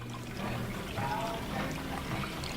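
Water poured into a water bath pan around a dish of bread pudding before baking, a steady continuous splashing pour close by, moderately loud and unbroken for a couple of seconds.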